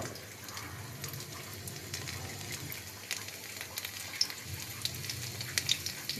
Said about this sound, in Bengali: দেখো তেলটা গরম হয়ে গেছে। এবার এর মধ্যে একটু রসুন কুচি দিয়ে দিলাম